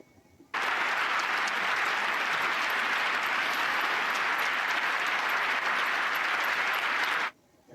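A European audience breaks into sustained applause, thick uniform clapping that starts abruptly, holds at full strength for about seven seconds, then cuts off sharply into near silence.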